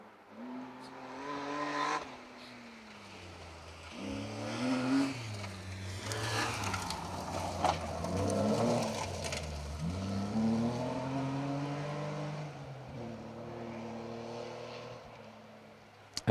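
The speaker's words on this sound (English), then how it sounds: "Andrew Fox with Jamie Lee Fox alongside in that 325 E30 BMW." A BMW 325 E30 rally car on a North Wales forest stage in the Protyre BTRDA Rally Championship, its engine revving and shifting gears in repeated rising and falling surges, heard fairly close and steady for about sixteen seconds without speech.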